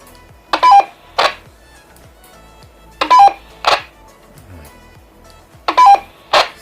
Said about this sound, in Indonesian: Sengaja ini menu Roger saya nyalakan, jadi begitu ada perpindahan dia berbunyi